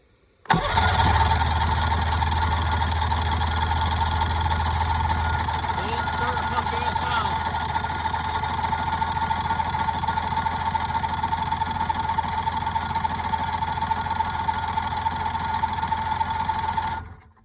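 A Polaris Edge X snowmobile that sat outside all summer starts abruptly and settles into a steady, loud, buzzing two-stroke idle with the choke on, running continuously close by until it cuts off at the end.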